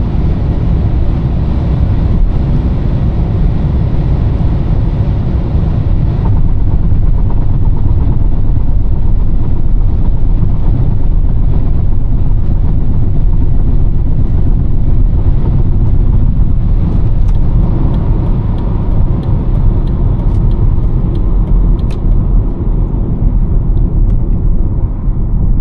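A BMW E39 523i drives on the road with a steady, loud low rumble of engine and road noise filling the cabin the whole time, smooth and unbroken.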